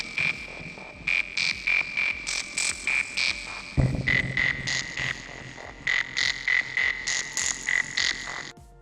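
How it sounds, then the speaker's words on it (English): A frog song sound effect, rhythmic pulsed croaks repeating in evenly spaced bursts, with a second overlapping chorus joining halfway, clear and fairly close. "This one is the frog song."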